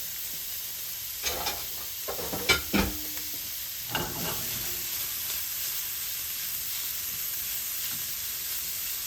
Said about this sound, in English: our pot is hot. Got our bacon in there